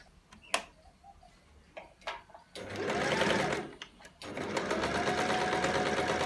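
A sewing machine stitches a Christmas table mat, starting after a few ticks and handling clicks, running steadily and loud in two long bursts with a brief pause between.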